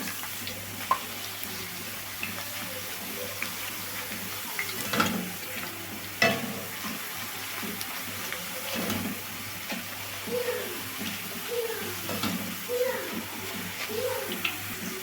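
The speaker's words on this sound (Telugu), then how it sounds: "ఒకసారి అయితే ఇట్లా కలుపుతా వేయించుకోవాలి" Potato chips frying in hot oil over a medium flame, a steady crackling sizzle throughout with occasional clinks and scrapes of stirring, fairly close and continuous.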